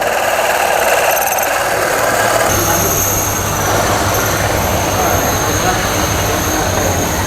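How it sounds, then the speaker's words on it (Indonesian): A drill runs steadily in a school machine workshop, grinding on for several seconds with a constant hum and higher whine, loud and close, amid workshop noise. "Ini bentar lagi selesai nih ngebornya."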